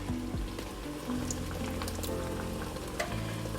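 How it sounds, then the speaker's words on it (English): Canned diced tomatoes and beans, juices included, tip into a cooking pot, giving a soft continuous sizzle and wet splashing with faint stirring clatter, low and close, with no voices. "I'm going to add all 3 cans into my pot."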